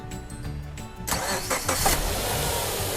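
A car engine cranks briefly and then catches, started with a 10000mAh 500A power bank jump starter, and settles into a loud, close idle.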